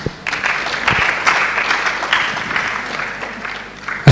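An audience at an evening launch ceremony for a TV station in Dodoma claps as a regional official comes up, producing a steady burst of applause from a crowd that stays fairly even throughout.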